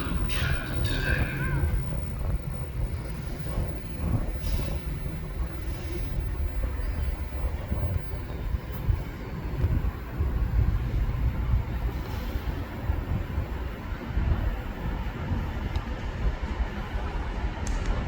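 A nine-coach CrossCountry train bound for Edinburgh pulls away from Newton Abbot station in Devon, a steady low rumble and wheel noise rolling on throughout with a few brief higher squeals early on.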